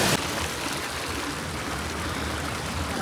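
Water from a fast, heavily flowing stream rushes through a snowy, partly frozen valley near Manali in winter, a steady broadband roar close by that holds evenly throughout with no talk.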